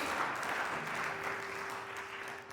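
An audience claps together in a talk setting, a dense, steady burst of applause that fades slightly over a couple of seconds, with no voices over it.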